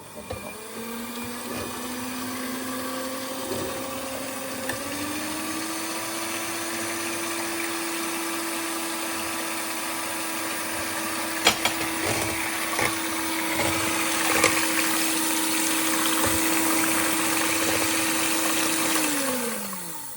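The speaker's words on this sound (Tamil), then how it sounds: "நாங்கள் இப்போ இந்த ஜெலி ஆறினதை வந்து இதுக்குள்ள கொஞ்சம் கொஞ்சமாக விட்டு நாங்கள் அடிக்கிறோம்" An electric mixer beats cooled gelatin jelly into cheesecake cream with a steady, loud whirring drone that lasts the whole stretch, its pitch rising slightly partway through, with a few clinks of the beaters against the bowl and no talking.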